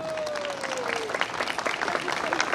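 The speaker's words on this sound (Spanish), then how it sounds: "Aplaudámosle, por favor." Audience applause at a Three Kings parade, a steady wash of clapping from a crowd that swells slightly and continues throughout, with a brief tonal whistle-like sound fading at the start.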